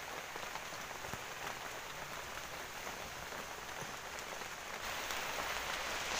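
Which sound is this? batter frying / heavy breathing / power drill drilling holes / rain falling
rain falling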